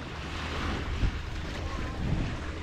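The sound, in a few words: sea waves at the beach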